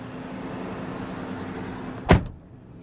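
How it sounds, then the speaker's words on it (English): A 2005 Ford Ranger STX pickup door slams shut once, loud and close, after a steady low hum from the idling 2.3-liter inline-four engine. "we'll go ahead and close this door"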